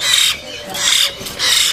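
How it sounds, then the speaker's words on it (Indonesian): Three harsh, raspy squawks from a young myna bird, close by, coming in a steady rhythm with short pauses between them. "Anakan beo. Oh, anakan beo."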